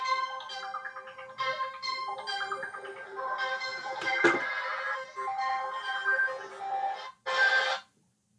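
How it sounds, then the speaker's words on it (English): A mobile phone rings with an incoming call, its melodic electronic ringtone repeating close by and steadily for several seconds, then breaking off before one last short burst. "that was a phone call from my wife"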